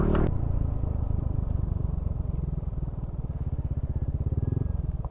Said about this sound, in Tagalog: Mate-testing naman yung motor natin dito.